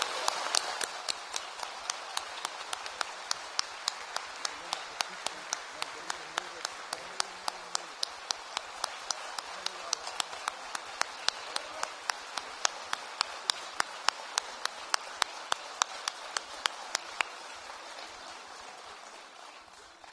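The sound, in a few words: loud applause for orchestra members and performers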